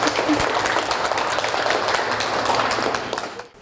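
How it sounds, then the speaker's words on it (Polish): Audience applause greeting a guest at a recycling fashion workshop, a steady wash of many hands clapping for a few seconds before fading out quickly at the end. "Ogromne brawa, słuchajcie, dla pani Ani, która tutaj do nas przybyła."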